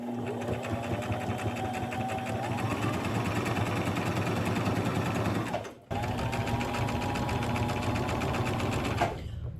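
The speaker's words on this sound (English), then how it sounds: "I'm just sewing at 1/4 of an inch." Sewing machine set to a stitch length of about 2.5 running steadily along a quarter-inch patchwork quilt seam, a continuous close mechanical whir with one brief pause near the end.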